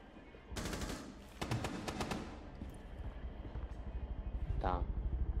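Gunfire from the video game Rainbow Six Siege comes as rapid, sharp bursts of shots early on, followed by quieter rumbling in-game sounds and a short rising tone near the end.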